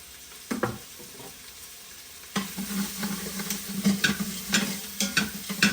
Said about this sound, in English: Right now I got the garlic going in.